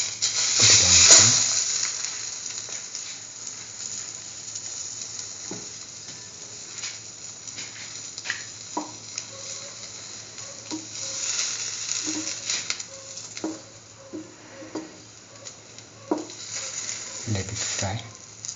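An egg-dipped chickpea, tomato and chili French toast sandwich fries in a pan, with a loud sizzling burst at the start, then a steady soft crackle and scattered pops throughout.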